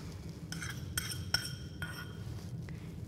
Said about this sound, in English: So just give that a wee stir just to get it going.